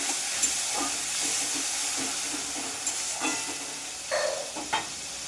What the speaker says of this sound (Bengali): টমেটোটা একটু কষে নেব।